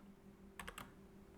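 A computer keyboard struck three times in quick succession while code is typed, faint and close in a quiet room.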